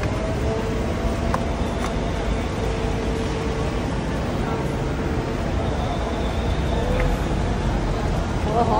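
Continuous broadband road rumble and hum inside a luxury car driving through Bangkok traffic, steady and fairly loud, with people talking over it.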